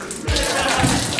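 Water pouring onto concrete balls, a brief loud splashing gush that starts suddenly and runs steadily.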